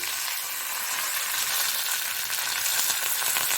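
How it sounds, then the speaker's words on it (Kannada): A spoonful of hot oil sizzles and spits as mustard seeds and curry leaves go in, a steady, dense frying hiss that holds without pause and with no voices. "ಖಾಲಿ ಎಣ್ಣೆ ಬಿಸಿಯಾಗುವಾಗ ಸಾಸಿವೆ ಮತ್ತು ಕರಿಬೇವು"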